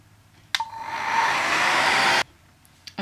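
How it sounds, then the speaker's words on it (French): A hair dryer switches on and blows steadily and loudly for under two seconds to speed the drying of a napkin collage on a canvas frame, then cuts off abruptly. "Pour accélérer le séchage, mon indispensable sèche-cheveux."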